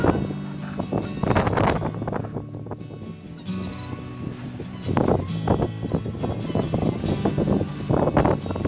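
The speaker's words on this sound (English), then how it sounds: "It's really windy." Strong cold-front wind in an outdoor yard roars and buffets the microphone in loud, gusting surges, easing around the middle before rising again, with no voices.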